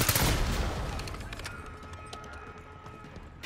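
Gunfire in Call of Duty: Black Ops 6, a loud burst at the start fading into scattered, moderately distant shots and sharp cracks over a low rumbling game ambience, with no talking.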